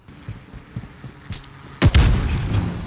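Muffled booms and thuds of gunfire in the video game ADS, a few scattered shots followed by a louder burst of rapid fire, no talking.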